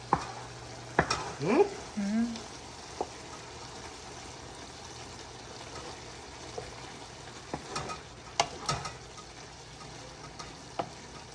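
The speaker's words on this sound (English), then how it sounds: "Fry up your shrimps one time. You know. Frying pan." Shrimp frying in a frying pan over slow heat in a backyard kitchen, a few short sizzling and stirring bursts near the start, then quieter low crackle with sporadic clinks and taps.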